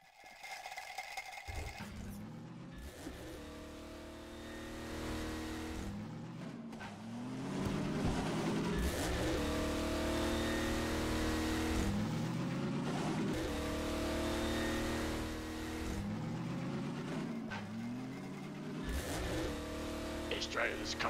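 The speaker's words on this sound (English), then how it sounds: "There's a car coming." Engine of a car in a video game revving and accelerating in repeated surges, loud and steady with shifting pitch, while a player talks excitedly over it.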